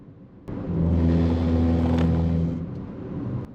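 A car crossing raised rumble strip humps on the shoulder of an expressway gives a loud, steady low droning rumble for about two seconds, then eases off as the tyres leave the strip, with no talking.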